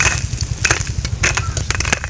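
Loud, close crackling and sizzling of crab pieces frying in hot oil, with sharp spitting pops bursting over a steady low rumble.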